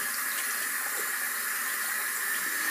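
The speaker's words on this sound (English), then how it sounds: "I'm going to go ahead and just rinse it off." Running tap water pours steadily into a sink while face scrub is rinsed off, a continuous close hiss with no pauses and no voices.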